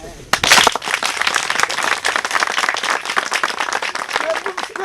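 An audience applauds loudly at an event on modern agriculture in Gabon, with a sharp burst at the start followed by dense, sustained clapping from many hands. Crowd noise runs underneath.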